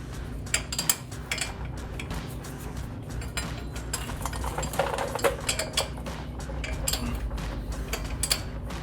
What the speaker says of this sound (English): so I'm going to use a wrench